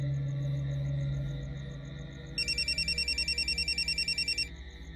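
A telephone rings in a Marathi TV drama scene, its repeated electronic trill starting midway and pulsing steadily over a low background hum.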